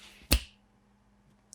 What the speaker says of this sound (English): You gotta snap your fingers